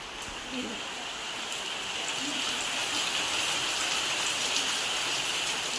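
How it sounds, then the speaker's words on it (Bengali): Steady, dense heavy rain falls outside, a continuous hiss of drops on surfaces that holds at an even, fairly loud level throughout. "এদিকে বাইরে হচ্ছে প্রচণ্ড বৃষ্টি দেখো"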